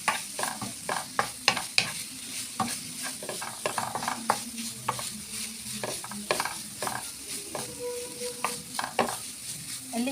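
Minced meat seasoned with salt and black pepper browns in a hot pan for béchamel pasta, a close steady sizzle broken by repeated scraping and clacking stirring strokes, with no talking.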